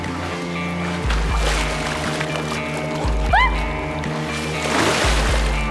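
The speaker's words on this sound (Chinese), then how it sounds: "我想租艘快艇去湖面上转转" A speedboat runs on a lake at a resort, its engine droning in low pulses that swell every couple of seconds, with water sloshing and splashing nearby and no speech.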